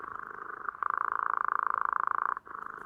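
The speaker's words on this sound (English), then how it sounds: "it purrs when you pet it" A robot pet toy gives a steady, soft rhythmic purr when petted, with a brief pause midway, close and alone, sounding slightly buzzy and mechanical.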